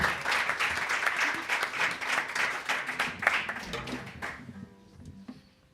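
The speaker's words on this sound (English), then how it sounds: "Give yourselves a nice big round of applause." A small live-music café audience claps and applauds in a dense steady burst for several seconds, then the clapping thins out and fades to a few scattered claps.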